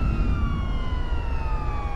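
An ambulance siren in Watch Dogs 2, a steady loud wail that falls slowly in pitch, heard alone over a low engine and traffic rumble.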